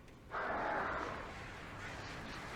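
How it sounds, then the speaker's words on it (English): A single harsh, raspy crow caw from Alan Wake sounds over quiet ambient background. It is fairly close and lasts about a second, then tails off. "Birds. Birds!"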